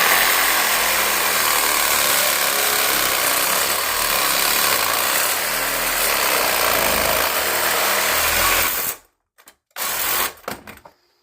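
A power tool grinds steadily through rusty toilet bolts, loud and continuous for about nine seconds before cutting out, followed by a few short bursts.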